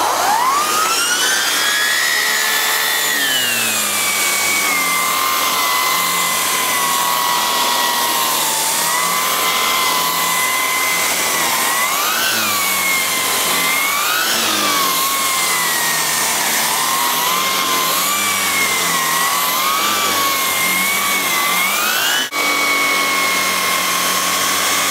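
A loud, steady whine of a Sebo Felix Rosso upright vacuum cleaner tackling dried-in mud runs continuously, its pitch wavering slightly as it works, with a brief bump near the end.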